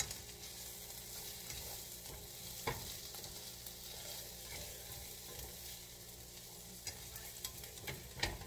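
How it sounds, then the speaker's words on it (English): Hamburger meat browns quietly in a pan for an Amish country casserole, a soft, steady sizzle broken by scattered scraping stirs. "I'll go ahead and add a hamburger meat."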